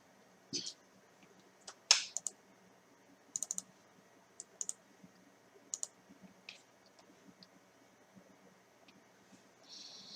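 Soft, sparse computer mouse clicks in a quiet room as a new browser tab is opened, a few isolated taps scattered among faint handling noise.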